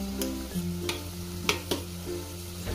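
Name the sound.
potato and prawns added to hot oil, frying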